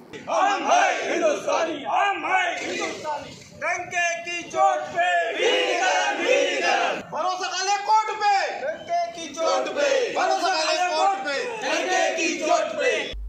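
ST bus employees at the Ramtek depot cheer in celebration: a loud, dense crowd of voices shouting and whooping continuously and close by, with chant-like bursts rising and falling throughout.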